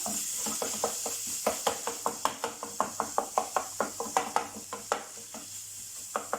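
Garlic and minced kofta meat sizzle in a pan while being stirred, a steady frying hiss broken by a run of regular scraping strokes of the spoon, close and clear with no talk.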